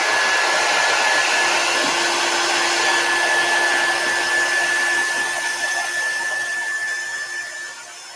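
A hair dryer blows steadily on a Chalk Couture fall decor piece, a loud, close whirring rush with a thin whine that stays constant, then eases slightly toward the end.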